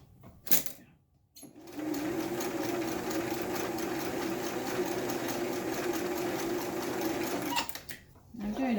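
A sewing machine stitches a small quarter-inch seam in fabric, a steady fast mechanical whir running for about six seconds between short clicks and pauses, fairly quiet and close.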